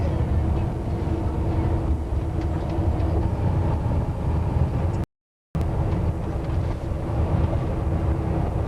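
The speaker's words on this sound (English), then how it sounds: "See the train going along up the mountain." Continuous low rumble and rattle of a train climbing a mountain in Europe, heard from inside, steady throughout with one brief silent break.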